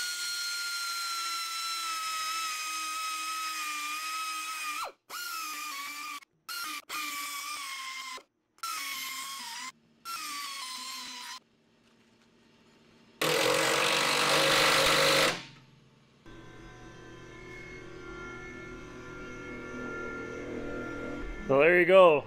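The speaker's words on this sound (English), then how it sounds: "so we're going to take the air Dremel." An air Dremel drilling out holes whines steadily in short bursts separated by brief pauses, then gives way to louder harsh grinding and rattling machine noise, up close with no talk.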